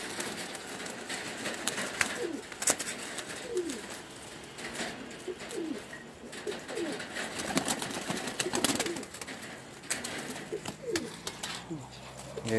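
Golden pigeons coo repeatedly on a rooftop loft, soft rolling calls recurring through the clip alongside occasional wing flutters and background noise, with someone talking intermittently.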